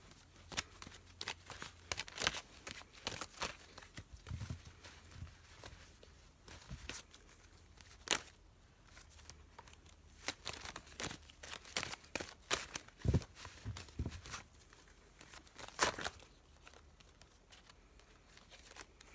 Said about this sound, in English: So we're going to pull some more cards.